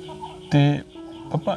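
Chickens on a Filipino property cluck in a few short bursts, one louder call followed by two quieter ones, close by and over a steady low background hum.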